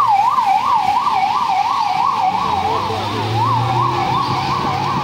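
An ambulance siren wails with a rapid rising-and-falling tone, loud and close, while a road vehicle's engine rumbles underneath with no talk.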